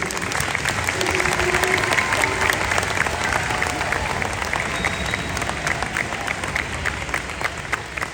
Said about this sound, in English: give one more round of applause for all of our students